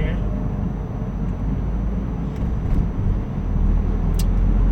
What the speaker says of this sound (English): Got some rush hour traffic going on here.